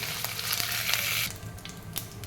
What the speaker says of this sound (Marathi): पनीर परतून घेऊया तेलात परतून घेतल्यामुळे पनीरचा कच्चेपणा जातो